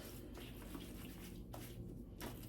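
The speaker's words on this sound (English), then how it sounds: "So I'm just adding the water and" Water poured into a tub of soil blocking mix while starting seeds, a soft, steady trickle and splash, quiet and close, with faint pulses as the pour shifts.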